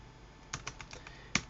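Code being typed on a computer keyboard: a handful of sharp, close keystrokes in an uneven rhythm, with brief gaps between clicks and a quick pair near the end.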